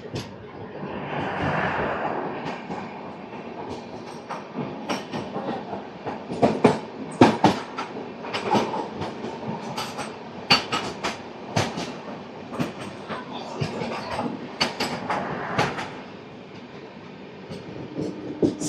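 From onboard, the Rayalaseema Superfast Express, train 12794 from Nizamabad Junction to Tirupati, rumbles loudly along the tracks with a steady roar punctuated by sharp irregular wheel clicks and clatter at rail joints.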